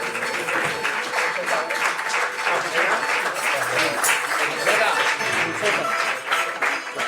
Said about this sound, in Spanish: Un aplauso a Enrique, por favor, fuerte.